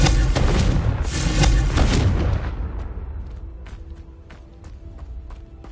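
A Confringo spell in Hogwarts Legacy detonates as a loud booming blast that rolls on for a couple of seconds, then fades into quieter ticks and faint footsteps.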